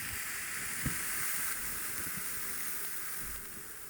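Ground beef browns in a big pan on a stove over medium heat, giving a constant, even hiss of sizzling with a few faint low thumps and pops underneath, no talking.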